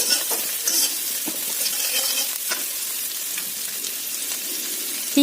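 Dried chilies frying in a tray of hot oil while making okra gravy, a steady bright sizzle with occasional crackles and pops, close and continuous with no talking.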